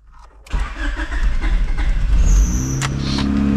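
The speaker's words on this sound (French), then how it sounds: "Bon, la voiture elle galère un peu. Elle galère un peu, mais bon, au moins elle démarre avec la base map qu'on a fait." A car engine set up with a Speeduino ECU on a base map cranks and catches, then runs roughly and unevenly at close range, loud and steady with a sharp click near the end.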